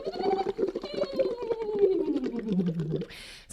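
A voice phonates through a Lax Vox tube into water, sliding in a pitch wave from high to low with a bubbling, gargly buzz over about three seconds, ending in a short burst of bubbling hiss.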